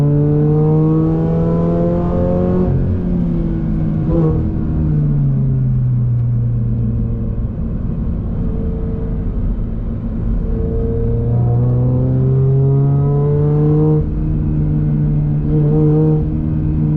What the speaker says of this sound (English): that free-flowing race exhaust. It's loud with the windows down